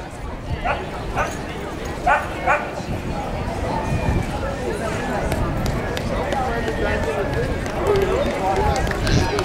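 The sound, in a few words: rescue dog barking at a dog parade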